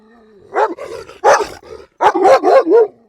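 Kangal dogs fighting, with loud, close growls and several sharp barks in bursts separated by brief gaps, no talk over them.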